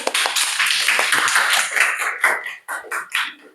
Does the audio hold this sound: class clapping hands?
yes